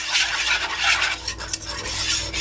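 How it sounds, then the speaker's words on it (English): A spoon stirs milk into a roux for gravy in a pot, a steady close scraping and swishing with a faint sizzle underneath, continuous throughout with no talking. "you got to keep stirring this bad boy so it won't clump up"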